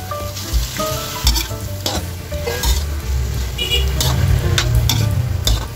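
Pork sizzles loudly in a pot with tomatoes for pork sinigang, a dense continuous frying hiss broken by repeated spoon scrapes and stirring knocks against the metal.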